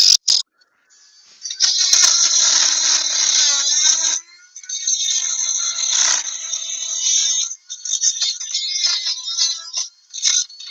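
A Dremel rotary tool grinds out a crack with a loud, high, sustained whine that dips and surges as the bit bites, broken by a few brief pauses.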